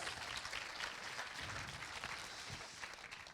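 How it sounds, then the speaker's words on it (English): Audience applause after a performance at a world premiere Q&A, a faint, steady wash of clapping from a crowd heard at a distance. "Give her a round of applause"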